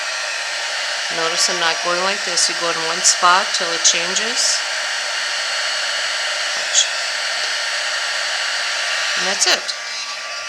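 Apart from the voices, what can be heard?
heat embossing tool blowing hot air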